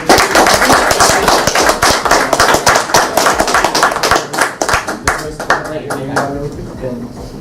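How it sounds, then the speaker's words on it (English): Audience at a live podcast recording at a fan convention clapping loudly and briskly for a contestant, sharp individual claps close by that thin out and fade toward the end, with voices talking over them. "Give him our applause."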